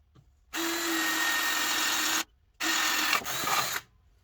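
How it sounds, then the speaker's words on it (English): Power drill boring out a hole in a deck, two close, loud bursts of high whirring, the first about two seconds long, then a brief pause and a second burst that strains slightly before stopping. "I'm going to go to town with that. Drill that out."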